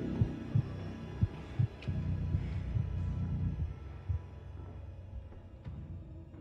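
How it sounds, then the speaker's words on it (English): A low, throbbing heartbeat effect in the horror video game The Outlast Trials, repeating as soft thumps under a steady hum, fairly quiet and with no talk. "Heartbeats cool down."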